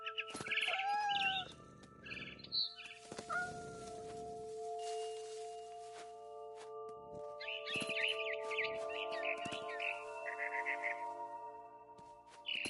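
A frightened barn swallow in What Remains of Edith Finch lets out agitated chirping bursts at the start and again in a longer rapid twittering run later, over a hum of sustained tones and scattered rustles and thumps.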